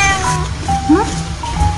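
A pet cat in a home meows in short rising cries close by, blended with a child's and adult's talk in the background.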